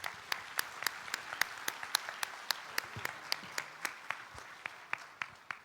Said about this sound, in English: join me in giving a resounding round of applause to the men and women who work tirelessly to make this event possible